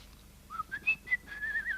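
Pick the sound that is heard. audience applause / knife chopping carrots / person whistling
person whistling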